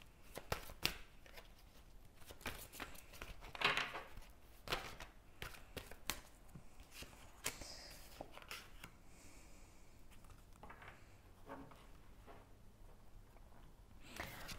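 Tarot cards shuffled and drawn by hand, a steady run of crisp riffling and flicking strokes with a few sharper slaps, close and moderately quiet, with no voice over it.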